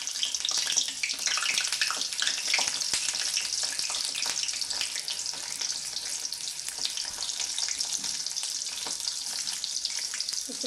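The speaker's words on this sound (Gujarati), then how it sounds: "જો તો આપણે આવી રીતે અંદર ભીંડો એમાં મૂકી દેવાનો છે તેલમાં" Stuffed okra (bharela bhinda) frying in hot oil, a steady dense crackling sizzle with small pops that carries on without a break, close and fairly loud, with no voices.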